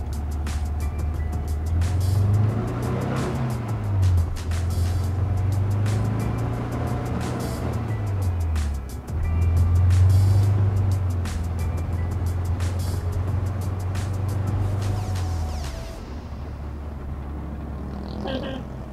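A 1974 Volkswagen Super Beetle 1303 with its 40 PS air-cooled engine accelerating along an empty road, the engine note rising through the revs, dropping at a gear change, then climbing again before easing off near the end.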